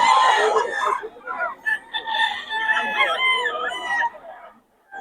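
A Boston-bloodline gamefowl rooster crows nearby, a drawn-out call followed by clucking sounds, with some voices present at moments.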